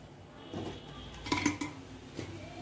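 Cooked, drained rice goes into a clay pot of chicken gravy for pot biryani, heard as a few close clinks and scrapes of a spoon against the pot in short bursts.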